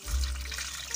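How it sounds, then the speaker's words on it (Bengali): Ripe mangoes being washed with water make a short burst of splashing and trickling, close by, with a low thump at the start and no talk. "আমগুলোকে এখন আমি জল দিয়ে পরিষ্কার করে ধুয়ে নিব"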